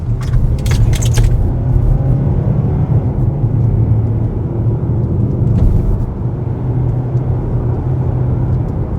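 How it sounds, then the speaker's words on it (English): A steady low tire hum and road rumble fill the cabin of a 2025 Hyundai Tucson driving on a rough road surface. A few brief light rattles sound near the start, and no one talks. "I can still hear the hum of the tires"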